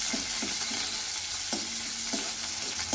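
Onions sauté with popped mustard seeds in a pan for a dried-fish curry, giving a steady close sizzle. Repeated tapping and scraping stir strokes break through at intervals, and no one speaks.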